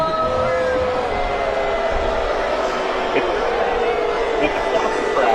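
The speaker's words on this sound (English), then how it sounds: "It's a soccer crowd." A dense, roaring soccer crowd at a FIFA final cheers as a steady loud wall of sound, played back with some tonal whistle-like lines in the mix.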